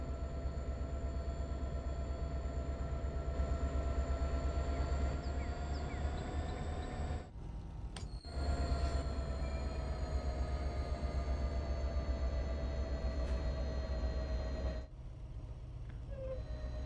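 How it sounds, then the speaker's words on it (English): A passing train rumbles past an MBTA commuter rail train on the Providence/Stoughton line, a loud, steady low drone with sustained tonal hum, briefly dipping and returning, heard from inside the cab without talk. "I think a train just went past us."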